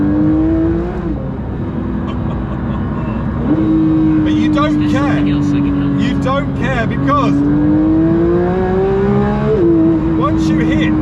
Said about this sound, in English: it's quite noisy in here, as you'd expect. I've got a 4-litre flat 6 behind me